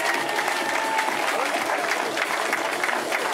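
Applause at a women's cycling stage awards ceremony in Radenac for rider Audrey Cordon, a lively, sustained burst of clapping from an outdoor crowd with faint voices mixed in.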